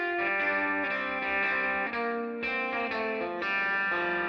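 Electric guitar on the treble pickup through a Soundtoys Tremolator effect plays sustained, shimmering chords for several seconds, with the tone changing at each new chord and no talking.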